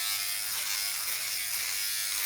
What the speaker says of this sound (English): I'll just use the shaver elements and the trimmers on this side